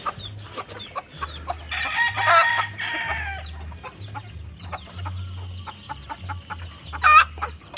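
Gamebird chickens cluck and a rooster crows in a farm pen, with several crowing bursts, bouts of clucking and low rhythmic grunting close by, scattered across the whole stretch.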